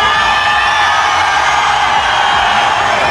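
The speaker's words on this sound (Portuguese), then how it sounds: "onde o intermediador ficou mandando o público gritar" Crowd of fans at a Brazilian event with GTA 5 actors shouting and cheering loudly, a dense sustained roar of many voices without a break.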